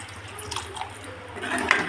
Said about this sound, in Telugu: ఇప్పుడు ఇందులోనే ఒక అరచెంబు వాటర్ పోసుకుందాం